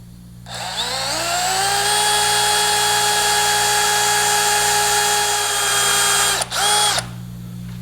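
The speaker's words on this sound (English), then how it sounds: "I'm going to drill a pilot hole with this little countersink bit" A power drill with a small countersink bit whines steadily at high speed for several seconds drilling a pilot hole in wood, close and loud, then briefly cuts out and revs again before stopping.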